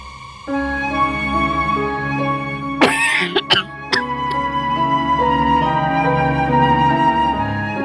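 Several harsh coughs from an ill person in a quick cluster rise over a steady sustained musical tone, near and loud, then the tone continues alone.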